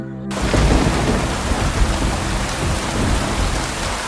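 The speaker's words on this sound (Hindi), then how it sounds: "ऑफिस के बाहर बहुत तेज बारिश हो रही थी। बिजली कड़क रही थी।" Heavy rain pours down loudly and continuously, with deep rolling thunder rumbling underneath, starting abruptly after a brief moment of quiet.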